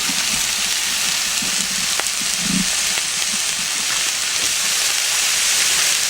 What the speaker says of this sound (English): I think I'm ready to go ahead and throw these beautiful ribeyes onto this vegetable oil right there.